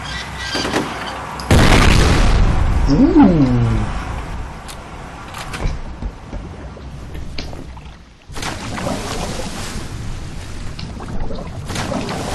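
A gas-leak explosion in the shooter F.E.A.R. goes off as a loud, close boom with a long rumbling tail. A second heavy burst follows several seconds later, with scattered crackles in between.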